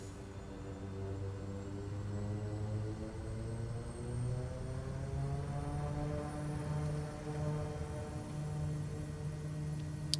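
A Kodiak plane takes off from a bush strip in Microsoft Flight Simulator. Its engine makes a steady, fairly quiet droning hum, and the pitch of the tone rises slowly throughout.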